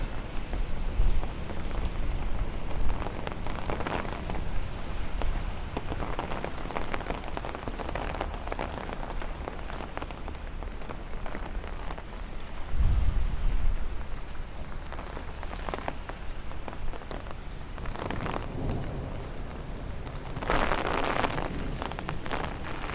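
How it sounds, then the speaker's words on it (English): Steady rain from a severe thunderstorm in Bensonhurst, Brooklyn patters on surfaces all around, a constant soft hiss with occasional louder splashes and a low rumble, no talking. "we are now walking in the rain"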